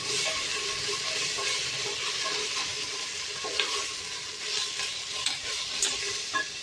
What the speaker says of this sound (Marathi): आता छान असं आलं लसूणची पेस्ट इथं भाजून घ्यायची